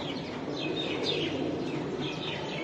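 Racing pigeons at a pigeon farm keep up soft, overlapping chirps and coos against a steady background hum, fairly close and continuous with no talk.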